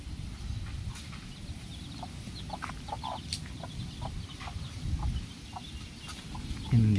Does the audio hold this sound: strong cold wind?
no